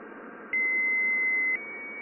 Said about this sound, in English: Juno's WAVES instrument on board the craft recorded audio of solar wind bouncing off of Jupiter's magnetosphere upon its approach